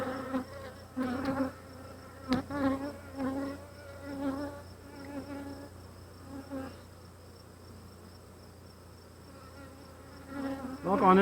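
Honeybees buzz steadily around an opened Flow Hive during a hive inspection, a close droning hum that swells and fades, with a few soft knocks and no speech.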